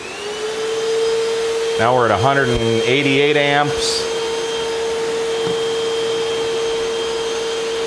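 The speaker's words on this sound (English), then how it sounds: "Turn on the vacuum." A vacuum cleaner runs off a 140Ah smart battery setup, giving a steady whine throughout, with someone speaking briefly over it near the start.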